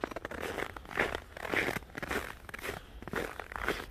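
Footsteps crunch through ice-crusted snow in subzero cold, about -3°F, with steady rhythmic crunches at a walking pace, close and moderately loud, and no talking.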